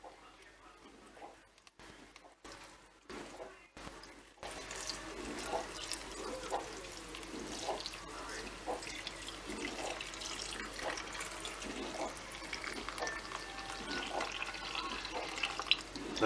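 Liquid jelly is poured gently into a glass in a home kitchen, making a quiet, continuous trickling and splashing that begins after a few seconds of near-silence, with light clinks and a faint voice.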